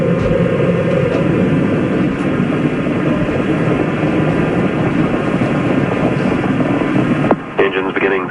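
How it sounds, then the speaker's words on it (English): Space Shuttle Challenger on its launch climb gives a loud, continuous broadband roar with heavy low rumble, steady throughout before cutting out briefly near the end, with a voice speaking over it. "Roger, roll, Challenger. Good roll program confirmed. Challenger now heading downrange."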